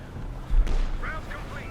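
An artillery barrage firing in the Company of Heroes 2 strategy game, a single heavy low boom landing midway through, with a rumbling tail and a voice speaking over it.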